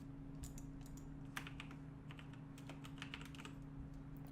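Soft, quiet keyboard typing on a computer while a username is entered during a Windows 7 setup in VirtualBox, a steady run of light keystrokes over a constant low electrical hum.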